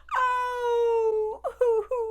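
A storyteller imitates an old dog crying by the roadside: a long, sustained mournful wailing moan, then a few shorter broken whimpering sobs, voiced up close and alone.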